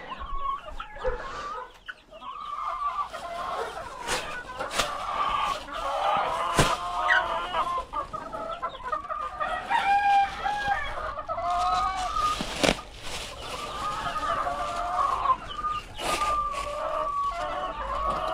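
Several chickens cluck and squawk continuously, with a rooster crowing now and then amid scattered farmyard noises.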